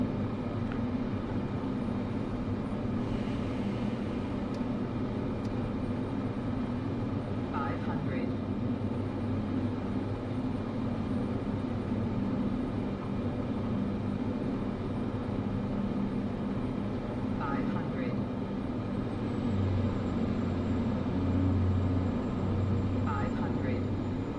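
A Cessna 208 Caravan's single turboprop engine drones steadily in flight over Papua New Guinea during an approach with flaps lowering, a constant loud hum with a pilot talking over it.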